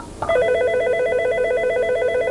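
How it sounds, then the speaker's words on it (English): An office phone system telephone, a short tone or button press followed by a steady warbling electronic ring tone that holds loud and close for about two seconds, with no talk. "From this phone, we're going to go ahead and dial it again."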